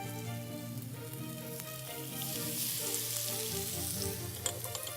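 Bacon sizzles on a hot salt block with a continuous, fine crackling hiss that swells slightly partway through, close and steady with no talking.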